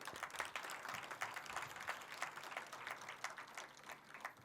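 An audience claps at a closing ceremony, producing a faint, distant patter of applause that runs continuously in uneven bursts.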